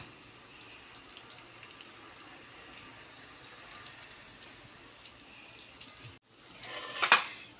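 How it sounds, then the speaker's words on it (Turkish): Meatballs fry in a pan with a steady sizzle filling the clip and faint clinks of utensils; near the end a brief louder burst of hissing and scraping rises. "tüm köftelerimi tavaya koydum. Şöyle güzelce bir kızartalım."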